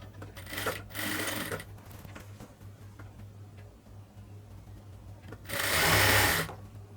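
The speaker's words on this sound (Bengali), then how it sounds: "এবার হচ্ছে এটাকে সেলাই করব," Sewing machine stitching a dress hem, running in two short bursts, the second louder and closer, with quiet pauses between.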